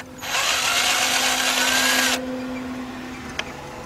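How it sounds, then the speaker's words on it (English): A Craftsman electric impact gun spins out 10mm bolts on a 1999 Nissan Altima engine with one loud, close, steady whir lasting about two seconds. It then stops, leaving a low background hum. "I have my Craftsman electric gun. I'm gonna go ahead and remove these bolts."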